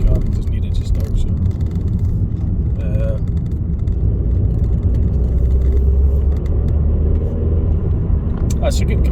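A Ford Focus drives along a road in Scotland, heard from inside as a steady low engine and road rumble running throughout, with people talking over it.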